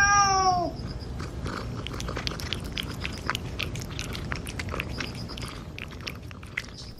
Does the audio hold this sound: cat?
yes